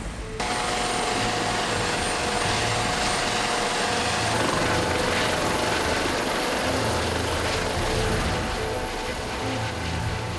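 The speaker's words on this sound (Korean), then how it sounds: "같은 시간 서강항공대 헬기도 이륙을 준비한다." A mountain rescue helicopter runs up for takeoff, its engine whine and thudding rotor blades forming a loud, steady, continuous roar close by.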